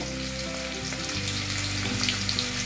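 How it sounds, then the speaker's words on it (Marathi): Asafoetida drops into hot oil with cumin and green chillies for a thin poha chivda, giving a steady, close sizzle of frying that runs throughout, with no talk. "हिंग घालते, थोडा नंतर मूग भाजून कढीपत्ता घालते."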